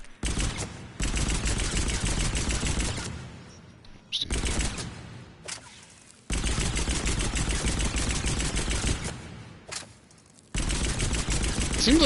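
Automatic pistol firing in Mass Effect 3, loud sustained bursts of rapid shots separated by short pauses, with quieter gaps where the fire drops away.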